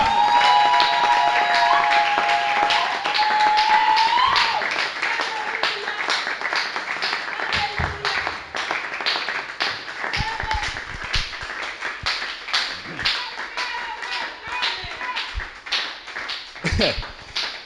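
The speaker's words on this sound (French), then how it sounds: "On acclame pour le Seigneur." A church congregation applauds and cheers for the Lord, with dense rhythmic clapping that swells at first and then thins into scattered claps, while a voice speaks over the crowd.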